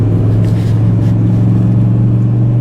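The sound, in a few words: Mazda MX-5 on BF Goodrich Comp 2 tires driving flat out on track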